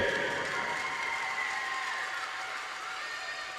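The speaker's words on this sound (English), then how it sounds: "I want to give a round of applause for these young athletes on a well-played championship game" A crowd in an arena claps and cheers for young hockey athletes after a championship game, with steady, sustained applause that fades slightly toward the end.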